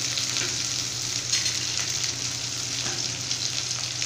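Mustard seeds, shallots and dried chilli sizzling and frying in hot oil, a continuous soft crackling hiss with faint stirring, steady and close, no voices.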